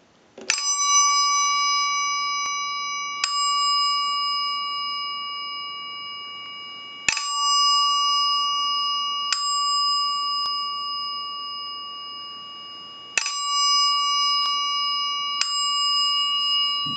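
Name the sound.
Northern Telecom bell ringer sounding in chime mode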